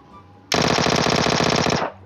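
A Vector submachine gun fires in the mobile game PUBG Mobile, letting out one loud, rapid, unbroken burst of automatic fire that lasts over a second and then cuts off.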